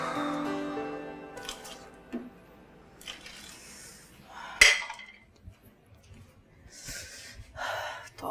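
A pile of dishes, pots and pans clinks and clatters at a home sink during washing, in scattered knocks and one sharp clang, with sighing breaths nearby.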